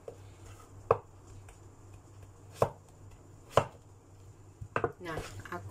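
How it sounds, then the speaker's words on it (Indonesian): Goat ribs chopped with a knife on a cutting board, four sharp separate chops spaced a second or two apart, then a short cluster of quicker hits near the end, close and distinct over a low steady background hum. "Nah, aku potong-potong kayak gini."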